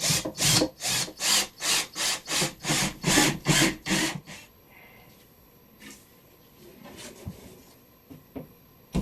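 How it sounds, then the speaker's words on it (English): Wooden cabinets being sanded by hand with rhythmic back-and-forth strokes, about a dozen loud, even passes close up, then stopping and leaving quiet room noise with a few scattered knocks. "I'm going to go ahead and sand these cabinets down"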